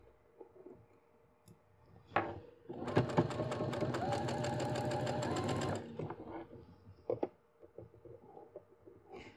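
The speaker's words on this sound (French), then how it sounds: "Et je vais venir coudre ici, au bord du zip." Sewing machine stitching along the edge of a zipper on lace fabric, a steady motor run of about three seconds with needle clatter, framed by soft clicks and handling noises before and after.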